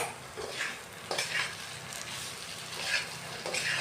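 Fried potatoes and prawns are being stirred into a banana flower ghonto in a pan, giving a steady soft sizzle with scraping stir strokes that swell in a few bursts, close and alone.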